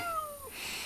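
A single cat, Boo Cat, meowing once indoors, a short drawn-out call that slides downward in pitch, close and moderately loud against a quiet room.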